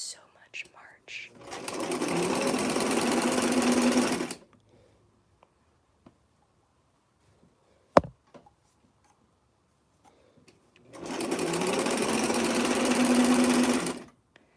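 A sewing machine stitches a T-shirt in two steady bursts of fast, close needle clatter, each lasting a few seconds, separated by near silence with faint handling clicks and one sharp tap.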